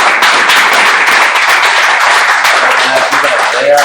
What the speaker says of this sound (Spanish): Bueno, Ricardo, primero vamos a dar fuerte un aplauso a Ricardo.